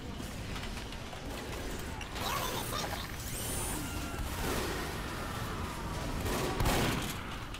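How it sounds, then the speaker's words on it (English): Team Fortress 2 gunfire during a Halloween Scream Fortress match, a busy mix of mechanical clatter and bursts of shots at steady loudness, with a brief voice underneath. "Shooting the dead body there, that was."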